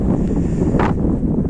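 Strong wind buffets the microphone on the summit of Punta di Su Guardiano above the beaches of Piscinas and Scivolo, a loud, steady rumbling roar with a brief gusty hiss partway through and no voice.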